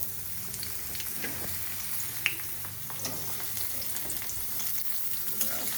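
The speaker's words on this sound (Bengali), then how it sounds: "আমি তেলের মধ্যে দিয়ে দেবো পেঁয়াজ।" Onion frying in hot oil in a wok gives a soft, continuous sizzle with occasional small pops and stirring scrapes, fairly quiet and close, no talk.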